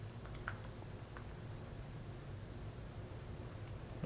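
Computer keyboard typing during a SwiftUI coding session, a steady stream of close, quiet key clicks over a low constant hum, with no talking.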